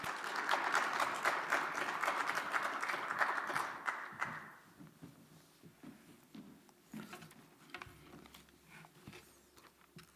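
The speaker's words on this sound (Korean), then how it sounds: "우리 목사님 나오실 때 박수로 한번 환영할까요?" A church congregation claps to welcome the pastor at an Easter service: dense, even applause for several seconds that then thins out into a few scattered claps and quiet rustling.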